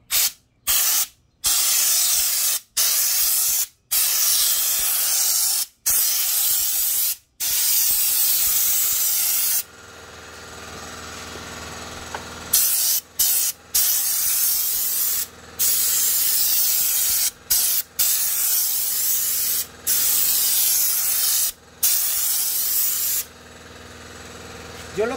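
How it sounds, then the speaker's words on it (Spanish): Spray gun applying Raptor bed liner texture coating, loud steady hissing bursts repeated many times with brief pauses between, a quieter stretch in the middle, no talking. "Pueden darse cuenta cómo el material se sprayea la textura"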